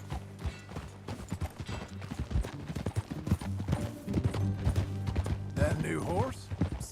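Horse hooves clip-clop in Red Dead Redemption 2, a steady rhythmic trot running under game music and other ambient sound throughout.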